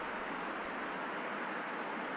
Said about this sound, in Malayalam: ഇവിടെ പിച്ചിൽ മഴയാണ്